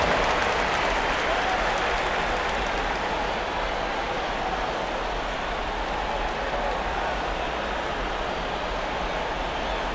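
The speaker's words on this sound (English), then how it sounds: "Give yourself a round of applause." Dense, steady arena crowd applause from an NBA 2K25 basketball playoff game, Pacers at Celtics, a continuous broadband wash of clapping and crowd roar at even level throughout, with no clear voices on top.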